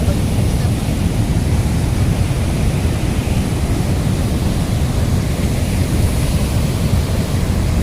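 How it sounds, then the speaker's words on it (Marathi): The Malungi river runs in strong flood over a bridge with a loud, steady, broadband rush of water. The roar continues without a break and no one speaks over it. "या माळुंगी नदीचा अतिशय मोठा प्रवाह आपल्याला दिसतोय."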